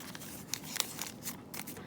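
Paper being folded into the wings of an origami swan, giving soft crinkles and a few sharp crisp creases close by, quiet and without talk.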